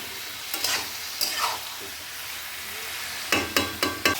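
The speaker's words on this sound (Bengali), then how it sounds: "মাশরুমগুলো তো ভালো করে এটাকে আপনাকে একটু কষাতে হবে" Mushrooms being sautéed in a pan, with a soft background sizzle broken by sharp scraping strokes of a spatula, scattered early and then four quick strokes in a row near the end.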